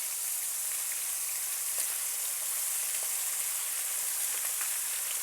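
Bone-in chicken pieces sizzle steadily in a hot pan, an even, continuous crackling hiss with faint pops, close and moderately quiet, with no talk over it.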